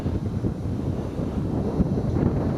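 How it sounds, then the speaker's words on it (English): Wind buffets a microphone outdoors on a cool, rainy spring day in Alaska, a steady low rumble with gusty swells throughout, close and fairly strong, with no speech. "It's fairly cool, a little bit windy, raining on and off."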